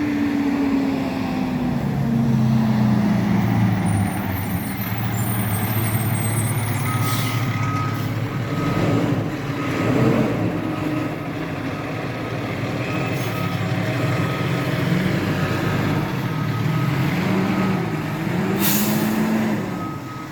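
A garbage truck idles and maneuvers close by on a street, its engine rumbling loudly throughout with a low drone, air brake hisses and reversing beeps rising over the steady noise for about twenty seconds.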